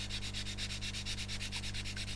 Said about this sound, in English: So effectively you're sanding that contour back into the kit rather than flattening it.